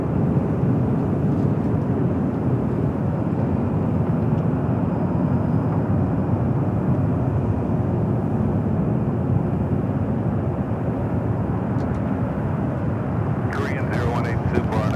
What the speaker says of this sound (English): Korean Air Flight 18, the flight back to Seoul, the A380 Super up next